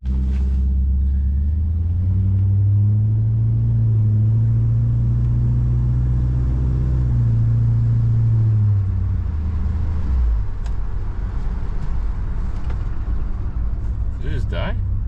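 A 1974 Ford Galaxie's engine rumbles loud and close, holding a deep steady drone before easing off as the car pulls away, with low road rumble continuing to the end.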